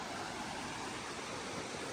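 Stream water flows behind a country house in the mountains, a soft, even rush of moving water that carries on unbroken with no voices.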